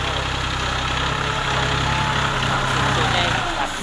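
A New Holland TT45 tractor, a three-cylinder of about 45 horsepower, idles nearby with a steady low, throbbing engine drone held at an even level, with people talking over it.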